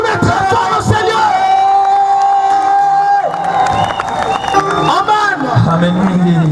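A large outdoor religious gathering cheers and shouts in acclaim, a loud dense crowd roar with whoops and rising voices, overlaid by an amplified speaker calling out over the noise.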